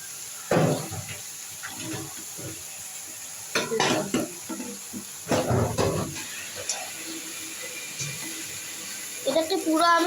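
Soybean chunks fried and stirred in a pan with a metal spatula, scraping and clinking bursts over a soft sizzle, with someone talking between the stirs.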